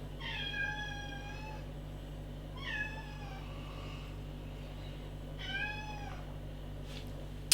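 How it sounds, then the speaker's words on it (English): A cat meows three times, spaced a couple of seconds apart, each call clear and drawn-out against a low steady hum, ending with a brief click. "Sorry if you can hear my cat in the background."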